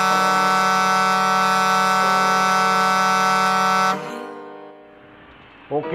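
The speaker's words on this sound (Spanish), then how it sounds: "vamos a irle sonando la bocina para que se arranque" A truck air horn in the Euro Truck driving game, blaring as one long, loud, steady tone for about four seconds before cutting off, followed by quieter engine rumble and a brief bump of sound near the end.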